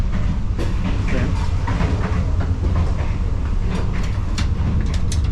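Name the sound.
passenger train running on rails in Kenya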